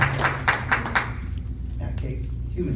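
An audience at a community event gives a few loud, rhythmic claps that quickly die away, and someone keeps talking over the fading sound.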